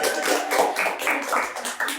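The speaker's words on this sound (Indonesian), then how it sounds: "Tepuk tangan dong, tepuk tangan." Hands clap in an Indonesian talk-show studio, a quick rapid patter of crisp claps from a small group, steady and close.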